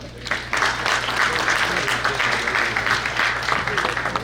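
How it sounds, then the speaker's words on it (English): Audience at an annual spring brunch giving a round of applause, a steady crowd clapping that starts abruptly and continues throughout, with some voices mixed in underneath. "please join me in giving a huge round of applause"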